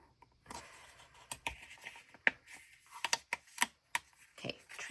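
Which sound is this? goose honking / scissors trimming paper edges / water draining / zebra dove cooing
scissors trimming paper edges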